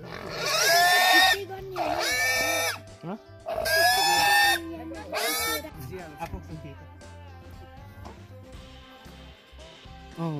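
A pig being caught for slaughter at a Nepali New Year celebration squeals in several loud, shrill bursts, then quieter grunts and oinks, while people talk nearby.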